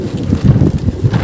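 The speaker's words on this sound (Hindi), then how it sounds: "देखिए आप, बहुत तेज हवा चल रही है एकदम।" Strong wind blowing across a rooftop, loud, close buffeting rumble against the microphone in uneven gusts through a brief moment.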